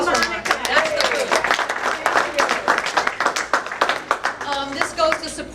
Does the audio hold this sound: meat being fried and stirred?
no